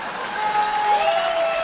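Applause from a comedy club audience in New York, a steady broadband wash of clapping that holds evenly for under two seconds without voices on top.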